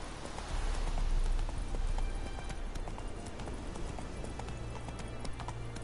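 Horse hooves clatter in a steady galloping rhythm in The Witcher video game, moderately loud over a constant low game-ambience rumble, with no talking.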